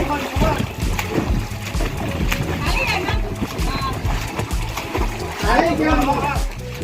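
Water splashes and sloshes in a village well amid excited voices shouting and talking nearby, with a bigger splash near the end as someone jumps in.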